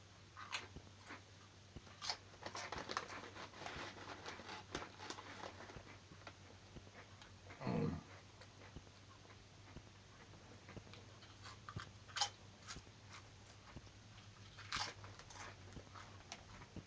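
Old Dutch potato chips being crunched and chewed: faint, scattered crisp bites and chewing crunches over a low steady hum, with one louder rustle midway.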